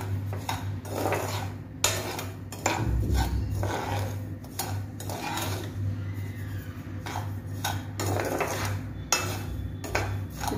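Semolina roasted on a low flame in a pan for coconut laddus, with a utensil repeatedly scraping and clinking against the pan in a close, irregular rhythm over a faint steady hum.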